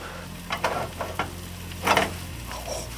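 Fish frying on bare tinfoil with no butter at a truck campsite crackle and sizzle softly, with a few sharper spits and stirring scrapes over a low background hum.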